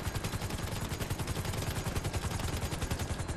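Rapid automatic gunfire in GTA V Online, a dense, continuous burst of fast, evenly spaced shots, loud and close, running throughout with no talking.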